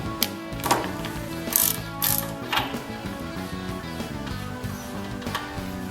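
A ratchet with a 17 mm socket clicks in a series of quick ratcheting strokes while loosening a motorcycle rear axle nut, close and metallic, with a few sharper bursts among steady clicking.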